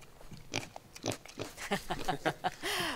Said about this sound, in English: The farm says pigs love to eat pumpkins